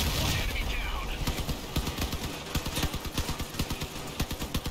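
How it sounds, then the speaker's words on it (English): Rapid, rhythmic bursts of gunfire from vehicle-mounted weapons in the Crossout combat game, close and loud after an opening roar, pounding in an even automatic pattern. "We're trying to go for accurate shots so we can take their weapons out."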